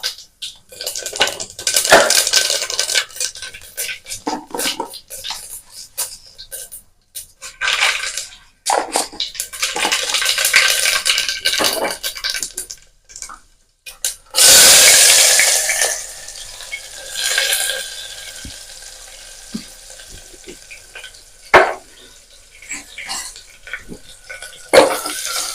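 Cumin, mustard seeds and curry leaves tempering in a hot pan in a home kitchen, heard as a loud, steady sizzle and spatter mixed with metal clinks and scraping of a utensil against the pan.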